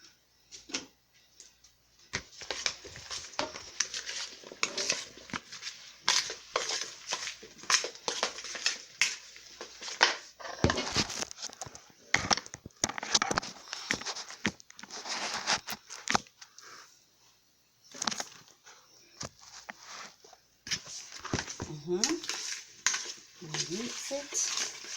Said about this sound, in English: Then I mix.